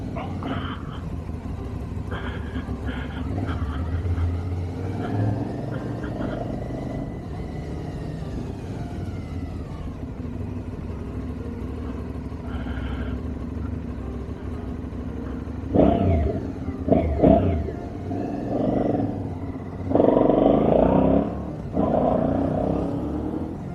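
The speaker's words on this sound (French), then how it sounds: "nouvelle moto, Aprilia Shiver 750" Aprilia Shiver 750 motorcycle engine running throughout while riding, a steady droning roar with wind, swelling louder in bursts of acceleration near the end; a voice speaks faintly at times.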